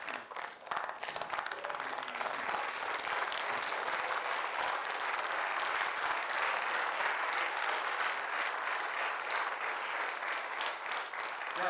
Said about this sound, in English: I think we should stand up and clap for FIFA